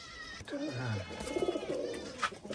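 Pigeons on a pigeon farm give soft, low cooing calls, close but faint, over a light background of rustling and faint voices.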